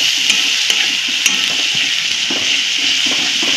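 A ground masala paste of dry and fresh coconut, ginger, garlic, coriander and whole spices roasting in hot oil, giving a loud continuous hiss and crackle with a few faint spatula taps and no voices.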